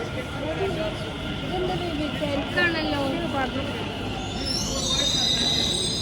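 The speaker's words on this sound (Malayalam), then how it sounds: "തിരിച്ച് മെട്രോ എത്തി." A metro train rolls into a station in Delhi with a steady rumble and faint wheel squeal, while people talk over the noise throughout.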